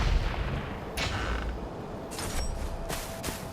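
Recoilless rifle in Far Cry, several sharp heavy blasts with bright bursts of noise against a rumbling in-game background, no one talking.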